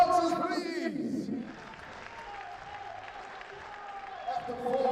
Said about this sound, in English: can I have a big round of applause for our boxers, please?